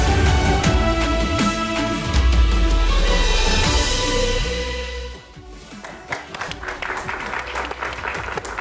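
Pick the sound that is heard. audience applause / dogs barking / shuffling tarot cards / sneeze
audience applause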